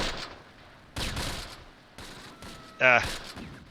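Machine gun fire in the World War II strategy game Close Combat, a few short bursts rattling from the distance, with one louder burst near the end over ambient battlefield sound.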